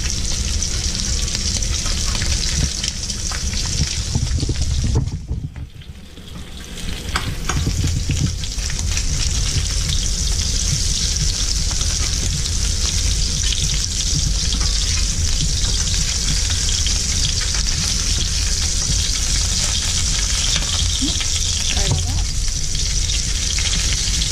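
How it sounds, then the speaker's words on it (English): Shrimp fry in a hot pan for pad thai, a loud, continuous sizzle that dips briefly as the pieces are flipped, then resumes with occasional scraping. "Now that the shrimp's about halfway cooked, we're going to go ahead and flip it."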